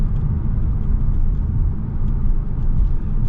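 Steady road and tire roar fills the cabin of a 2024 Hyundai Elantra N-Line sedan while driving, a constant low rumble with faint whirring and no speech.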